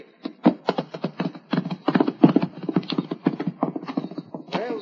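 Horse hooves clip-clop in an old-time radio drama, a quick, steady run of close, hollow knocks that continues throughout.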